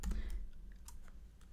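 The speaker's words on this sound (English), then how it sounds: "I'm looking for the G on my keyboard." Fast clicking keystrokes on a computer keyboard, a short burst of close, crisp taps that thins out into a few scattered presses.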